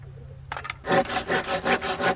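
A kitchen knife saws through something in quick regular back-and-forth strokes, loud and close, starting after a brief quiet moment.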